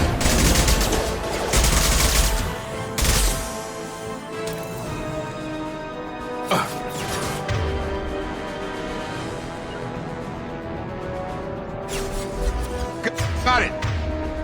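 Sustained gunfire from Mass Effect 2 on PS3 plays with rapid shots and bursts over a dense game soundtrack, with voices speaking between the shots.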